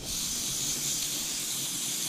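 A steady, loud hiss of aerosol spray cleaning a snowblower carburetor runs unbroken for about two seconds, close by, with no talking.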